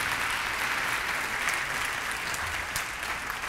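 An audience at a school parent meeting claps steadily, a dense, even round of applause from a room full of people lasting a few seconds.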